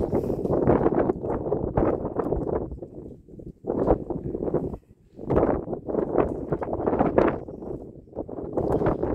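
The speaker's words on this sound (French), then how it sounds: "Il y a du vent" Gusty wind buffets the microphone in rough, loud bursts with brief lulls, outdoors by a hotel in foggy Seraidi, Algeria.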